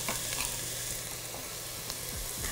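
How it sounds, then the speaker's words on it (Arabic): Onion stirs and fries in a pot until soft and brown, giving a continuous moderate sizzle with occasional scraping strokes from the spoon and a faint steady hum beneath, no voices. "راح نحرك إلى أن يلين ويتحول لونه إلى لون بني."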